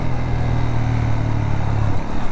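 A TVS Apache 200 4V motorcycle engine fitted with an NGK iridium spark plug revs steadily with a close, loud mid-pitched drone and a rising tone near the end.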